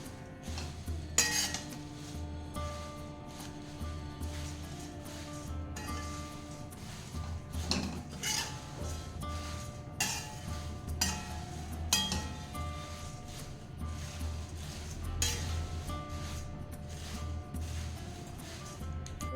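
Paper poha dry-roasting in a pan without oil: repeated metallic clinks and scrapes of a utensil against the pan in an irregular rhythm, close and clear, with little else audible.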